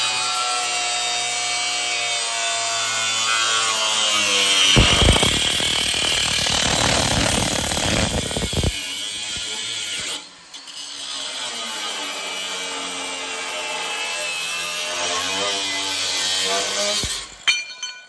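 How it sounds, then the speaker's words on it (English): Angle grinder cutting off the factory bumper mounts on a Dodge truck, a harsh steady metallic grind over a steady whine that bursts loudest mid-clip, then continues more evenly until a short break near the end, with no talk. "Davey is using the Arccaptain angle grinder to cut these off"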